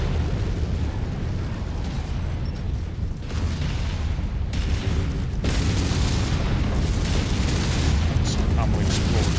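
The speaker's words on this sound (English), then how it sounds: "Ammo explosion." Loud, dense game explosion sounds from MechWarrior 5 as a mech's ammo detonates, with booming bursts layered over continuous battle noise and heavy low rumble for the whole stretch; a voice talks through part of it.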